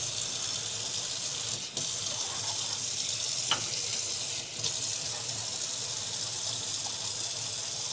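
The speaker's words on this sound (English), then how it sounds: "Let's take this bowl that originally had it, and let's actually wash this. Let's rinse it out a little bit." A bowl being rinsed under a running tap, a steady splashing stream of water with a couple of short interruptions, heard alone and fairly close.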